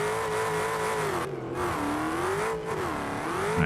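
An off-road car in BeamNG Drive revs hard while tearing through scrubby terrain. Its modded engine rises and falls in pitch in a continuous, loud, close roar, with no talking.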